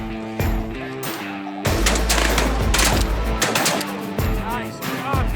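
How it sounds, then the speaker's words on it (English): Shotguns fire in rapid volleys during a snow goose hunt in Arkansas, several loud overlapping blasts close by in a dense burst, with voices calling out among the shots. "Good shooting, boys."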